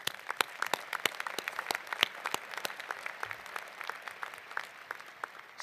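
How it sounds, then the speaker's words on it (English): Audience applause at a University of Idaho 2017 winter commencement ceremony, a steady crowd of many hands clapping at moderate distance for several seconds without talk. "Let's give ourselves a round of applause."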